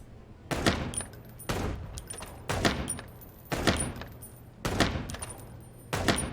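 Six sharp revolver shots in the video game Chicken Police, fired at a steady pace about one per second, each a loud crack with a short tail, no talking between them.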